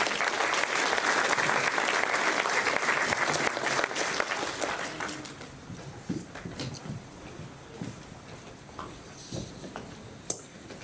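Audience applause at a school awards ceremony, with steady dense clapping from a large crowd that fades over several seconds into scattered claps and quiet room noise.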